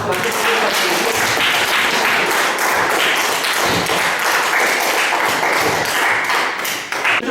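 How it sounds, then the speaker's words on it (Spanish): Students in a school library break into loud, sustained applause, dense clapping with a few thuds that runs steadily throughout before easing slightly at the very end. "Un fuerte aplauso para todos ustedes, muchachos."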